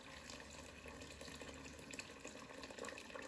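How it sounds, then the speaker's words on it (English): Tap water runs into a pot to make broth for a vegan French onion soup, a faint, steady rushing stream with no talk over it. "So I'm gonna add some water for my broth right here."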